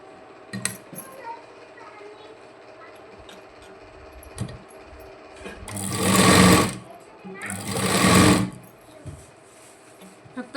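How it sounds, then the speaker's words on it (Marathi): A sewing machine stitches overlapping fabric pieces for a princess-cut boat-neck front panel, running in two loud bursts of a couple of seconds each between quiet handling clicks and taps. "बघा ह्या टोकापासून हे टोक एकावर एक ठेवायचं आहे आणि स्टिच करत चालायचं"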